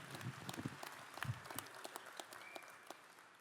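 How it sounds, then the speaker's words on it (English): Audience applause at the closing ceremonies of the 37th National Veterans Wheelchair Games, a steady wash of many hands clapping from a distance at moderate-to-faint level, continuing throughout without speech. "Please give them a round of applause."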